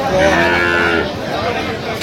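A dairy cow at a cattle market in Aftabganj, Dinajpur, gives a loud, close moo that lasts about a second, then trails into a low murmur of crowd noise.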